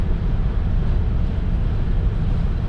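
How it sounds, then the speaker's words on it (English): Strong wind buffets a Tesla electric car driving on an Illinois highway, a loud, steady, dense roar with low rumble that holds without a break. "you can probably hear the crazy wind going on right now"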